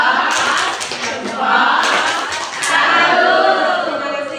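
A group of children performs a rhythmic clapping routine in a classroom, bursts of hand claps alternating with chanting voices, close and loud.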